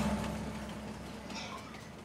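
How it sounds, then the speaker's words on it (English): A train passes along tracks on an alpine map in Farming Simulator 19, giving a steady low mechanical rumble that holds at moderate loudness and fades slightly, with no talk over it. "We have a train going by."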